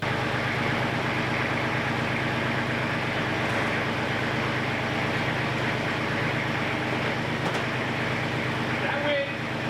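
Tractor engine running steadily and loud throughout, a constant droning rumble while pallet forks lift a sheet of drywall toward an upper ceiling corner; no pauses or revving.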